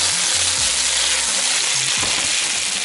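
Potatoes fry in a pan with a steady, loud sizzle, a few low knocks and scrapes as the pieces are turned over, then the hiss carries on alone.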